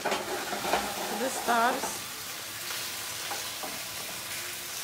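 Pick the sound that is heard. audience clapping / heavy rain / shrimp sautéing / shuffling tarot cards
shrimp sautéing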